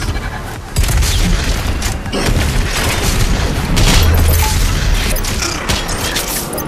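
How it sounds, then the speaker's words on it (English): Heavy shotgun blasts in the Doom Eternal shooter, a few deep booms spaced a second or two apart over loud, rumbling combat noise. "The shotgun sure does do a lot of damage though."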